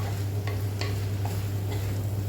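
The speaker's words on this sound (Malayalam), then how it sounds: "ഇത്തിരി കൂടെ നമുക്കൊന്ന് മുരിയിച്ചെടുക്കാം" Mushroom pepper fry stirred and sautéed in a pan, a constant close sizzle over a low hum with a few light spatula scrapes, no talking.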